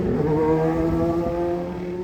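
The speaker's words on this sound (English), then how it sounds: "motorcycles driving the wrong way" Motorcycles on a road in Malaysia pass close by with a loud, steady engine drone whose pitch slides a little lower as they move away over two seconds.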